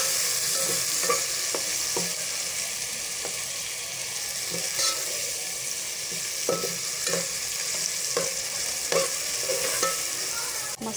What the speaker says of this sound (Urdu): مسالے کو تھوڑا سا بھونیں گے ہم.